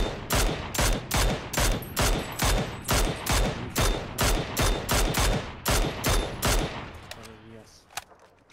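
Rapid, steady bursts of automatic gunfire in PUBG, close and loud with an even rhythm of roughly three shots a second over several seconds, then a pause and a final lone shot.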